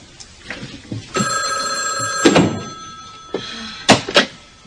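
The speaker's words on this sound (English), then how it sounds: "Mr. Flint, there's a call for you on line 1." An office desk telephone rings in a sustained electronic trill, loud and close, followed by a few knocks and thuds; no voices during the ring.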